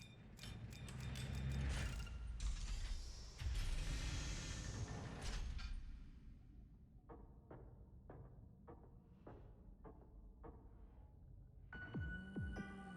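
Door opening with a creaking mechanism in the video game Zanki Zero: a loud grinding, rumbling mechanical sweep, then a run of evenly spaced clanking ratchet clicks, ending in a rising creak.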